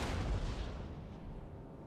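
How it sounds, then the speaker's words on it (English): A deep cannon blast booms from the battlefield in Napoleon: Total War, a loud low roar with a long rumbling decay and no talking over it. "The roar of the cannon sounds out."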